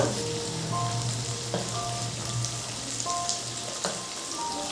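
Spices sizzling in hot oil in a pan as half a spoon of turmeric powder goes in for a Bengali potato curry, a steady close crackle with faint stirring taps and no talking.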